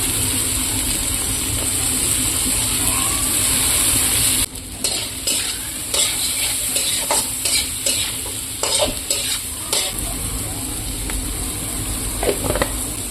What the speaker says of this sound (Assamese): চয়াবিনখিনি একেলগে দি ল'ম, দুয়োখিনি বস্তু একেলগে ভাজি ল'ব